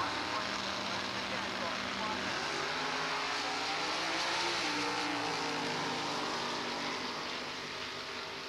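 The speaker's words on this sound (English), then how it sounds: "500 cubic inches, a big block Chevrolet, one of the heaviest cars that runs in SuperChevy." A heavy big-block Chevrolet drag racing car with a 500 cubic inch engine roars steadily and loudly at a SuperChevy drag strip, its engine note shifting as it runs down the track.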